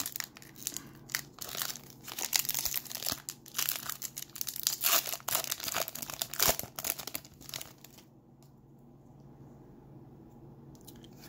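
A 2018 Topps Series 1 baseball card blaster being torn open, with close, dense crinkling and crackling of foil wrapper for about eight seconds, then near quiet.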